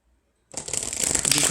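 Tarot cards are shuffled after a short silence, a close, crisp riffling flutter that builds and continues steadily to the end.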